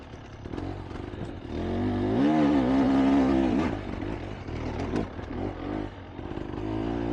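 Motorcycle engine lugging under load in a higher gear on a hot, humid road ride, a steady close droning pull that swells in loudness midway, then eases back to a continuous rumble.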